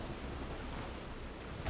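Video game storm at sea, heard as a steady roar of wind, waves and rain washing over a boat, continuous and moderately loud with no speech.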